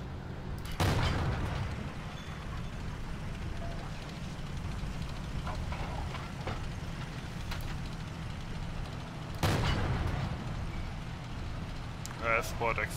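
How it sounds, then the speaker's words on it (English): Gunfire in the World War II shooter Forgotten Hope 2: two loud, sharp shots several seconds apart over steady low battlefield rumble, with a brief rattle of smaller reports near the end. "Firing blind while waiting for the artillery"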